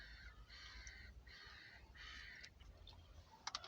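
Birds caw repeatedly outdoors by a river near the sea, several harsh calls in a loose rhythm, faint and somewhat distant over low background rumble, with a few sharp clicks near the end.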